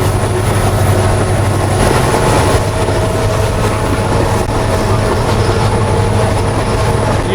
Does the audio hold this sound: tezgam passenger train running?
yes